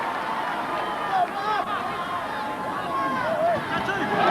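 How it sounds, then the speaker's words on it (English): A huge crowd at a 1992 Pacific Cup rugby league match between Samoa and Tonga at Carlaw Park, a broad steady roar of spectators with a commentator talking over it. "A huge crowd here at Carlaw Park enjoying all the action."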